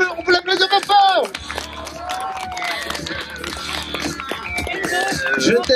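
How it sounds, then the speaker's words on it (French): An audience at a stage magic show at a winter weekend event in Saint-Gervais Mont-Blanc claps and cheers for a volunteer, with steady applause building under crowd chatter after a host speaks over it. "On peut l'applaudir bien fort."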